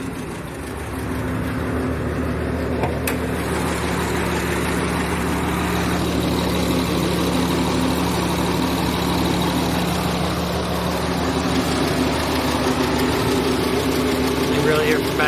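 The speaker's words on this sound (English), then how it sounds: "Now there's the diesel sound." A diesel engine idles with a misfire, making a steady rough rumble with low droning tones that continue throughout. A voice talks over it now and then.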